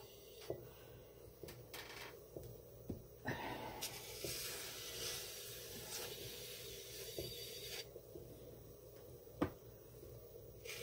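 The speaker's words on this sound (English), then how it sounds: "Trying to trim some excess clay off." A trimming tool scrapes excess clay from a pot turning on a potter's wheel, giving soft, uneven rasping and occasional sharp clicks over a low hum, close and fairly quiet.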